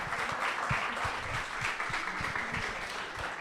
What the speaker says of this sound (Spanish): agradecemos la presencia con un aplauso